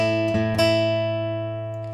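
An acoustic guitar rings out two picked notes of a song's pre-chorus, an open string among them, sustaining cleanly and fading alone without talk.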